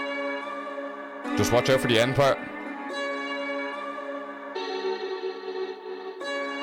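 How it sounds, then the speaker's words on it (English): Effectrix effect chops and glitches an Arabic drill melodic sample in FL Studio, giving stuttering, modulated bell-like tones; someone talks briefly over the start, then the processed loop plays on its own. "So with the Effectrix, it sounds like this."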